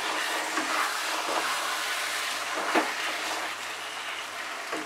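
Pui shak cooks with fish heads in a pan as a spatula stirs it often. Soft, dense sizzling continues under several distinct scraping strokes, close and moderately quiet, with no talking.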